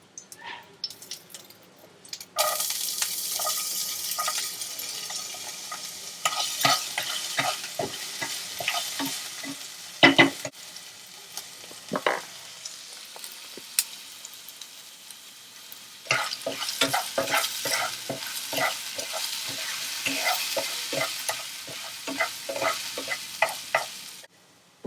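Chopped onion fries in a hot pan for a beefsteak with potato dish, bursts of loud sizzling alternating with quieter stretches as it is stirred, with occasional scrapes and clinks of the utensil.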